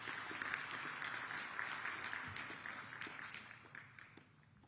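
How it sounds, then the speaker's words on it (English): An audience applauds a commissioner at an event in Addis Ababa, with dense, moderately faint clapping that tapers off over a few seconds. "Please, a round of applause."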